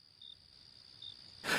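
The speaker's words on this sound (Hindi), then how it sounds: "झींगुरों की आवाजें सुनाई दे रही थीं।" Crickets chirping in a silent village lane at night, a steady faint high trill with two brief louder chirps, then a sudden burst of broadband noise at the very end.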